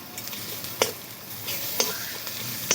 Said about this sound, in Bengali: রসুনটা আরেকটু ভালো করে ভেজে নেব